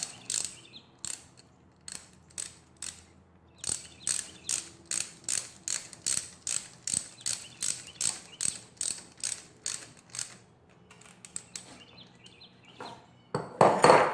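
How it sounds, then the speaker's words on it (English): Rapid metallic ratcheting from a wrench tightening the carburetor bolts on a Honda Grom, steady rhythmic clicks in short bursts, close up, ending with a louder clatter. "Go ahead and tighten these with a wrench."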